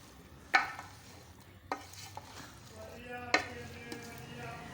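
Cabbage and vegetables stir-frying in a pan for chicken macaroni, with several sharp scrapes of a utensil against the pan over a low, steady background.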